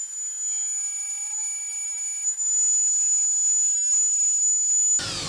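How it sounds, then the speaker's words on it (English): A Dremel rotary tool engraves a saying into pallet wood with a steady, high-pitched whine that holds for about five seconds and then cuts off abruptly near the end. "I figured I would Dremel that little saying in there."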